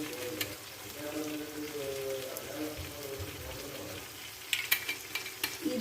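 Mustard seeds crackle and sizzle in hot coconut oil in an iron pan, a steady frying hiss with sharper pops toward the end, while a voice talks over it.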